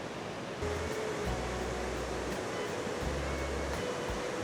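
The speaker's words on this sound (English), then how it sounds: "Beautiful river, absolutely beautiful." A flowing river outdoors gives a steady, broad rushing wash, with a low rumble that comes and goes underneath and no voices.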